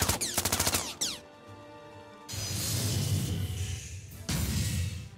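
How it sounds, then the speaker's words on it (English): Rapid bursts of gunfire crackle loudly, then a harsh metallic clatter and whoosh, followed by a dense renewed volley of shots and impacts, all staged as a sound effect in a Final Fantasy VII audiobook battle against a giant metal scorpion. "He aimed his gun and opened fire."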